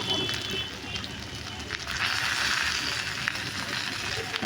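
Oil frying teasel gourd (kakrol) pieces in a pan gives a steady broadband sizzle that rises slightly and holds continuously, fairly close, with no talk over it.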